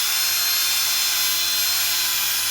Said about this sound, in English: Make sure your drill's in a forward motion too. And then you just start sanding